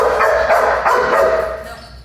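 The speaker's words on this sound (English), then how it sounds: "he's barking at a dog" A dog barks at another dog in a run of rapid, sharp, high yips and barks, loud and close, repeating about four or five times before tapering off.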